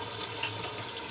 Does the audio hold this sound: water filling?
yes